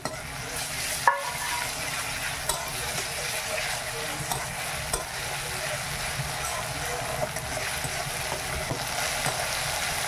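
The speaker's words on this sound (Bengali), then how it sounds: "এবার আদা বাটাটা দিলাম।" Ginger paste fries in a pan with a steady, close sizzle, a sharp clack near the start and a few lighter taps and scrapes of stirring scattered throughout; nobody talks.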